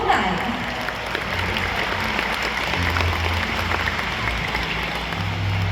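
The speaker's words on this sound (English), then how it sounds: "How about a round of applause for the killer whales as well as all of you tonight" A SeaWorld stadium crowd in San Antonio applauds after a killer whale show, steady clapping throughout with a voice speaking over it and water noise mixed in.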